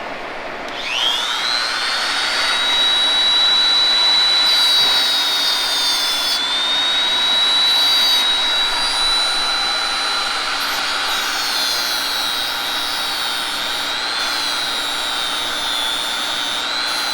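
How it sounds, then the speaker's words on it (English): A tungsten electrode sharpener in a welding shop spins up after a second into a loud, steady high-pitched whine that holds for about sixteen seconds with only slight changes in pitch, and no voices. "It's a tungsten sharpener."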